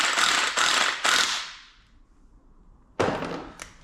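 A ratchet clicks in quick, loud bursts as studs are screwed back into a Ford Escort XR3 cylinder head, three sharp ratcheting strokes, a pause, then another short burst.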